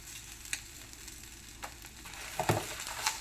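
Curry leaves and spices fry in a hot pan, giving a soft, steady sizzle with a few sharper crackles and pops and no voices.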